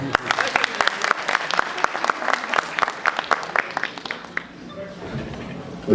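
Audience applause at a literary festival panel in Sabará, Brazil: a burst of sharp, distinct claps from a modest crowd that thins and fades out after about four seconds.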